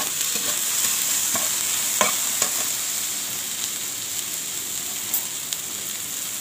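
Green okra being stir-fried and stirred in a pan, a steady hiss of sizzling oil with scattered scraping clicks of the spatula, close and continuous with no talking.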